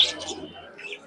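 Pigeons at a pigeon market give a short, soft cooing call, close and brief, with faint background murmur.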